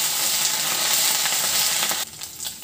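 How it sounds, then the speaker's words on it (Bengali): Grated ginger and spices frying in hot oil, a loud continuous hiss and crackle with brief stirring sounds, dropping in intensity near the end. "এবারে ফোড়নগুলো ভেজে নেব। এখন দিয়ে দিচ্ছি 1 টেবিল চামচ গ্রেট করে নেওয়া আদা।"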